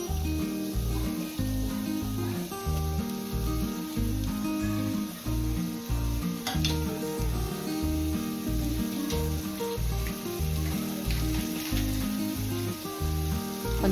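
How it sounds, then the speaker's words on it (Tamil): Strips of carrot, onion, capsicum and cabbage frying in butter in a pan give a steady close sizzle and crackle that runs the whole time, with a faint rhythmic background pulse and no talking. "உப்பு கொஞ்சம் போல் போட்டு லைட்டாக ஃப்ரை பண்ணி எடுத்துடலாம்"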